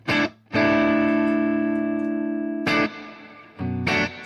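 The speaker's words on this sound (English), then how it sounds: "Just a plate reverb." An electric guitar run through a Strymon Big Sky pedal on a plate reverb setting plays sustained chords that ring out and decay, with short strums before and after, loud and alone.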